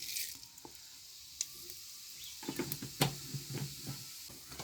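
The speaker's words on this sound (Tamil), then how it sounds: "எண்ணெய் காய்ச்சிட்டு இப்போ சோம்பு போட்டுக்கலாம்." Fennel seeds sizzle and crackle in hot oil, a steady hiss with scattered sharp pops and a few light clinks of a utensil, close and fairly quiet.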